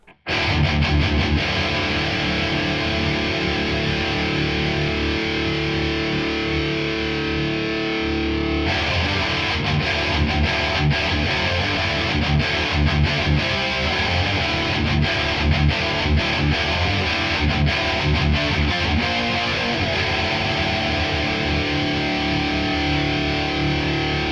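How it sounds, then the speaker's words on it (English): High-gain electric guitar rhythm from an ESP LTD EC-10 on the bridge pickup through a PRS MT15 amp, boosted by an overdrive pedal: loud, dense distorted chugging and chords playing continuously without talk. "And here we go for some high gain rhythm tones on the bridge position."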